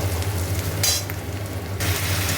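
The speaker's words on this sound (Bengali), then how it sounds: "পেঁয়াজগুলো সব দিয়ে দিয়েছি এবার সব ভালো করে লাল লাল করে ভাজা হবে" Steady sizzling of onions frying until browned in a pan, with occasional stirring scrapes; continuous and close, no voices.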